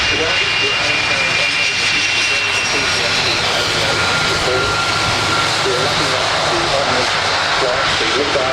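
A Qantas Boeing 747 arriving at Avalon Airshow 2019 roars with a loud, steady jet engine drone throughout, while an announcer talks over the public address.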